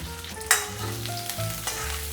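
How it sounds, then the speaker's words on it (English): Ginger and slit green chilies sautéing in a pan for restaurant-style chicken chili, a soft steady sizzle with a few spatula clinks and one sharp scrape, close and without talk. "a little bit of ginger, 2 green chili slit. I'll just saute this."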